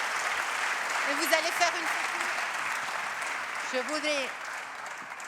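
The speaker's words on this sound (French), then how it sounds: "Je crois qu'on peut l'applaudir très fort." Audience applause fills the hall at an award ceremony for the Choose France prizes, a steady broadband patter lasting throughout while someone speaks over it.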